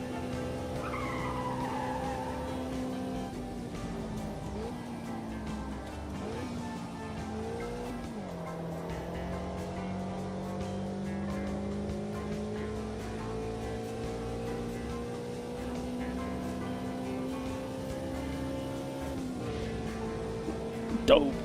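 Race car with cold tyres skidding in the Automobilista 2 racing game: a steady engine drone with sliding tyre squeal and shifting pitch throughout, continuous and fairly loud, with a brief louder burst at the end.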